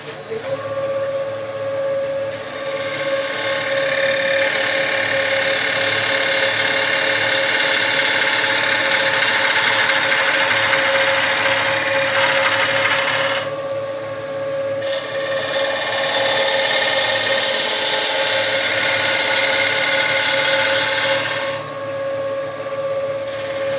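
A wood lathe turns a bowl blank while a gouge pushes through the cut, making a steady, loud, close scraping whir that runs in two long passes with brief pauses between, over a constant motor hum.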